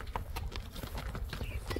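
A horse walks at close range, its hooves landing in a steady, light clip-clop rhythm over a low background rumble.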